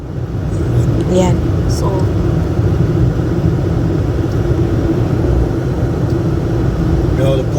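A snowplow truck drives along a snowy road with a steady low engine rumble and road noise throughout, close by, while a person talks over it.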